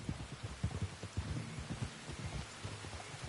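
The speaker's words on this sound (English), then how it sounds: "You were right about the damn rain." Rain falling in Red Dead Redemption 2, a soft steady patter with faint low thumps and no voices.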